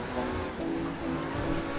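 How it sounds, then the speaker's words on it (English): A fast car in GTA 5 drives at high speed, its engine droning steadily with a rising, revving tone, loud and continuous with no talk over it. "Bro, this car is fast."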